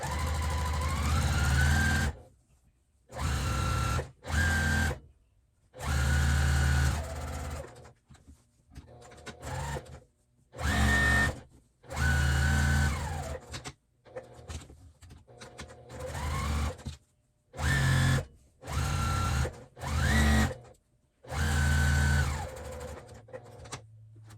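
A sewing machine stitches a quarter-inch seam on a flannel burp cloth. It runs in repeated bursts of rapid, whirring needle action, close and loud, each burst separated by short silent pauses.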